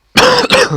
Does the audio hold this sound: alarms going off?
no